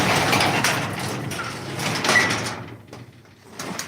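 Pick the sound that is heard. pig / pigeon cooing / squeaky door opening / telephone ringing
squeaky door opening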